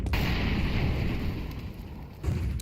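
A Counter-Strike 2 molotov burns as a steady, dense roaring crackle of fire, loud and close, with low rumbling underneath and a thump near the end.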